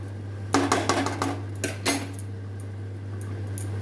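A lid set over a pan of cooking beto greens, a handful of quick metallic clinks and clatters close by over a steady low hum, then quiet.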